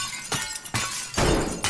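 Glass shatters repeatedly in the voxel destruction game Teardown, several sharp bursts of breaking panes in quick succession, loud and close with crunching debris between them.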